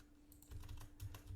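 Code being typed on a computer keyboard for a C++ GDNative Godot tutorial, heard as quick clustered key clicks in short bursts, fairly close and quiet, with no talking.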